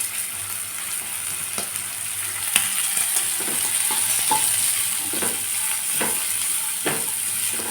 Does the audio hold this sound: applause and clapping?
no